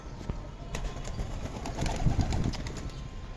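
Pigeons in a rooftop loft on a hot day, cooing continuously at close range amid rustling and scattered bird noise, with no talking.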